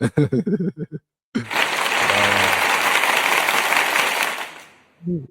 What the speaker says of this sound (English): clap it up for him, baby